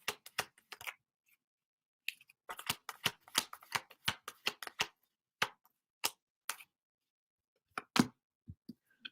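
Tarot cards are shuffled and drawn during a live reading, heard as crisp, close riffling bursts and taps in irregular clusters with quiet gaps between, and no voice.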